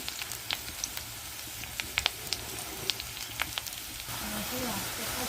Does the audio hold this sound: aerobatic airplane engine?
no